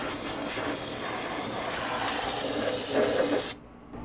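An aerosol cleaner sprays onto a 1984-01 Jeep Cherokee XJ 4.0L engine in one steady, close, loud hiss that lasts about three and a half seconds before cutting off abruptly.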